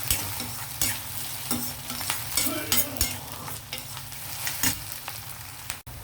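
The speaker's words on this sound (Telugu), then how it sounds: "ఈ టైంలో మనం అల్లం వెల్లుల్లి పేస్ట్ వేసి వేగనిద్దాము" Ginger garlic paste fries with onions in a pan, a steady close sizzle with scraping stirs and clinks of a spoon, while preparing gongura chicken.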